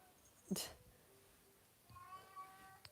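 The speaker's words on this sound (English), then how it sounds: "She's just like meowing away a storm." A house cat meows to be let in, one short, fairly faint meow following a brief burst of noise, set against a quiet indoor background.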